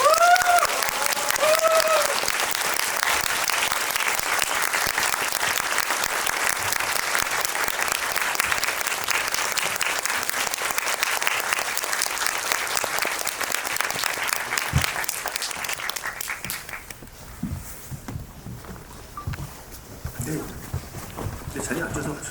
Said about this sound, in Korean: 여러분 영화를 재미있게 본 만큼 큰 박수로 맞이해 주세요